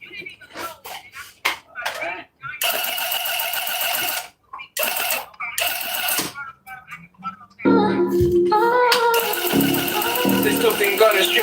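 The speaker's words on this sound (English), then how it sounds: "This tufting gun is strictly meant for tufting." A tufting gun fires in rapid mechanical bursts, starting and stopping several times, then running longer toward the end, with a person speaking between the bursts.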